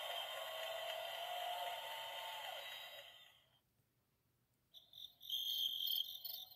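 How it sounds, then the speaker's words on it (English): Steady synthetic cricket chirping plays loudly, cuts out into near silence, then resumes with a higher, thinner electronic chirp. "crickets."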